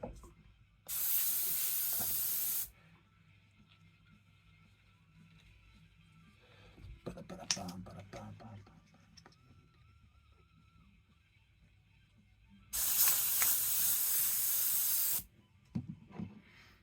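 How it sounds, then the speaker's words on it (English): Airbrush spraying pearl paint straight from the bottle in two bursts of loud, steady hiss lasting about two seconds each, separated by quiet handling noises and faint clicks. "instantly it's spraying really well"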